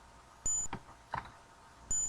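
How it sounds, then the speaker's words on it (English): The wrecked hovercraft in the Space Quest 2 video game gives two short, high-pitched electronic beeps, more than a second apart, with faint game noises in between. "You hear a high-pitched beep. It seems to be emanating from the wrecked hovercraft."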